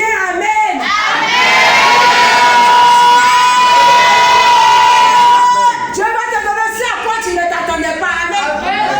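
A loud church congregation at a French-language Sunday worship service shouts together in a sustained roar for several seconds, then settles back under a preacher's voice.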